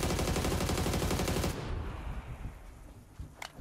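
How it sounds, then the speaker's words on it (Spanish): Gunfire in PUBG Battlegrounds, a loud rapid automatic burst that cuts off abruptly after about a second and a half, followed by quieter scattered distant shots and game ambience. "Yo escuché tiros para atrás"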